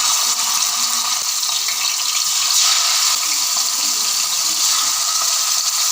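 Kaleji tikka skewers fry in a pan of hot oil over a medium-low flame, giving a loud, continuous hiss and sizzle with no talking.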